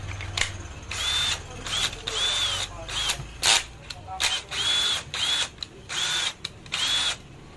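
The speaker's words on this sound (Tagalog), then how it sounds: "Ito yung cordless drill mo bago na yung chuck." A Makita 18V cordless drill fitted with a new chuck runs in a series of short, sharp whirring bursts with rising and falling pitch, stopping and starting repeatedly, loud and close.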